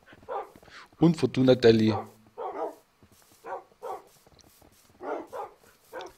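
Minecraft dogs barking in a burst of several close yips and barks, followed by scattered softer bark-like sounds, with a person talking over parts of it.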